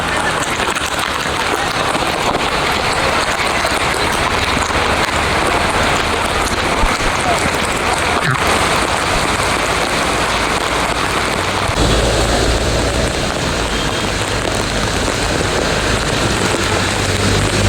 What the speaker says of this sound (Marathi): एवढ्या पावसाचे जोरात थेंब वगैरे पडत आहेत